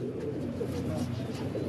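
Pigeons on a rooftop loft in Faisalabad coo softly and continuously in the background while someone talks over them nearby.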